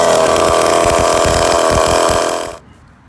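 A Rovan Baja 45cc petrol RC car engine with loose exhaust bolts runs loud and close, a rough buzzing drone with an uneven pulsing idle that cuts off abruptly near the end, leaving quiet.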